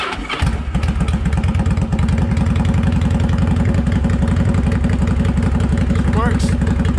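A Yamaha V-Star 1100 cruiser motorcycle with the choke on cranks and fires up, then settles into a loud, close, steady loping idle with an even rapid pulse.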